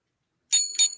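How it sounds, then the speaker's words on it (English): A hotel desk bell is struck twice in quick succession, giving bright, close metallic dings, with a third strike just starting; no talking. "I'm not using a wand. I'm using a hotel bell."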